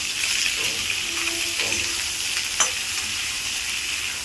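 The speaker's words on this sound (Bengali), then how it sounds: "আমি আদা বেগুন আর আলু একসঙ্গে ভেজে নিচ্ছি" Ginger paste, eggplant and potato fry together in a pan with a continuous close sizzle, broken by a few scraping stirs and a sharp clack near the middle.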